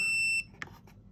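A PATPET 625 electronic dog collar gives a steady electronic tone that cuts off, followed by a couple of short faint clicks or beeps.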